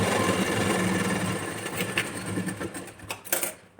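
A sewing machine stitching a princess-cut blouse runs in a fast continuous whir that slows and breaks into short, uneven bursts of stitching toward the end, close and alone without talking.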